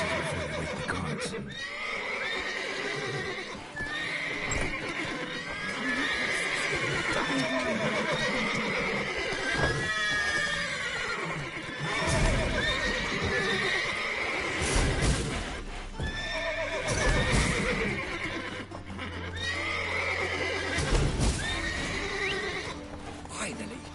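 Repeated horse neighs and whinnies ring out over clip-clopping hooves in The Witcher 3, with voices talking intermittently and game ambience filling the background.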